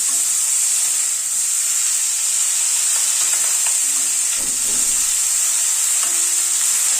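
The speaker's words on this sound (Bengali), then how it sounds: "নুন হলুদ দিয়ে আলু ফুলকপিটাকে ভালো করে ভেজে" Potato and cauliflower pieces frying in oil with salt and turmeric for a rohu fish curry, a loud continuous sizzle with a few faint stirring scrapes, no voices.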